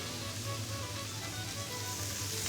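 Seafood sizzles steadily in a hot pan, a dense continuous crackle and hiss at close range without pauses or talk.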